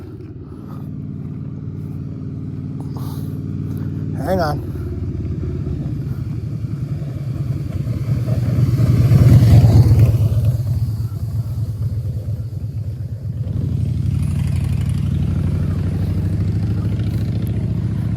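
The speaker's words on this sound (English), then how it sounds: "oh, car." A car passes close by, its rumble building to a loud peak and then fading, while another engine idles with a low, steady throb before and after; someone speaks a few words briefly.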